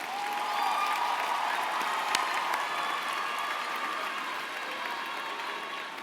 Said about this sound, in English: would you please join me in another round of applause to our amazing scholars